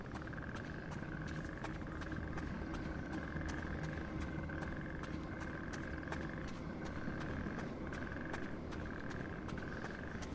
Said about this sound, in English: Oh, that's the frogs